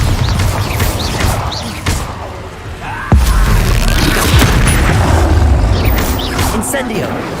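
A Bombarda spell explosion in Hogwarts Legacy booms loudly and deeply at about three seconds, with a sharp onset. Dense game combat noise and rumbling run around it from start to finish.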